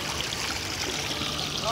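Water streams out under pressure like a home hose, a steady, loud hiss and rush that runs unbroken throughout.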